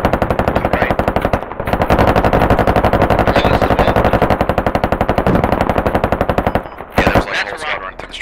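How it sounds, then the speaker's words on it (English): An M240 door gun on a helicopter in the game Squad fires long sustained bursts, a rapid loud rattle of closely spaced shots with a couple of brief pauses. "we're just doing buzzovers and inaccurate suppression with 240s"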